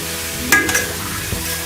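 Green onions and a large yellow onion sauté in a pan with sizzle under soft background music, broken by a brief sharp clink of a utensil.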